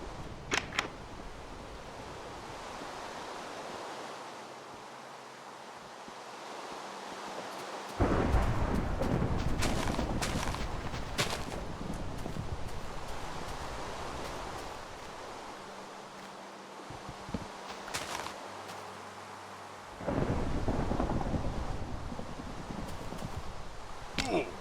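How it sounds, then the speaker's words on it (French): Thunderstorm in the Minecraft video game, with loud bursts of thunder cracking over a steady wash of rain noise, several heavy strikes spaced through the scene. "quand il y a un orage dans Minecraft, il n'y a pas autant d'éclairs"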